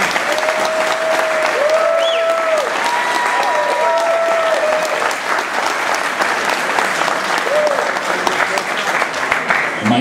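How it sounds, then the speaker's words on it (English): Loud, close clapping from an audience at an award presentation, dense and continuous for ten seconds, with a few whistle-like tones and murmuring voices faintly audible underneath. "go ahead and clap for that."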